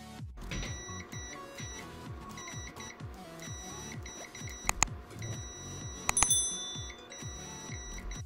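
A Zoyi ZT111 budget multimeter in continuity mode gives repeated short electronic beeps, some clustered and some spaced, alongside faint clicks of the probes, close up and without speech.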